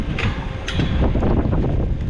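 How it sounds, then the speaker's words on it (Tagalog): Strong wind buffets the microphone at a welding site, a dense and loud rushing roar with gusty bursts, close and continuous, with no clear voices. "Lakas ng hangin ah."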